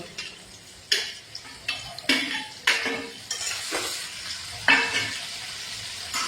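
Chopped onion, ginger and garlic stirred in a hot pan, a spatula scraping and clacking against metal in irregular strokes over a steady sizzle.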